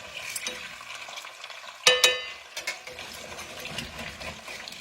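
Eggs fry in a pan with a soft, close sizzle as a utensil scrapes and flips them, giving two sharp clattering knocks near the middle and lighter scrapes around them, all with no talking.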